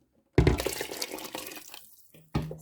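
Water pours steadily into a pressure cooker of goat trotter curry with a splashing rush, stops briefly, then starts again at the end; close and fairly loud.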